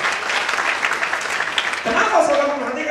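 Church congregation clapping together, a dense continuous wash of applause with a voice speaking over it toward the end.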